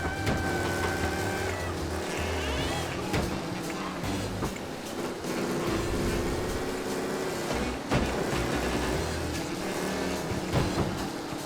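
Broken-down car in Mafia Definitive Edition, a continuous loud engine drone with shifting pitch and rattling texture, driving steadily over a constant game soundscape.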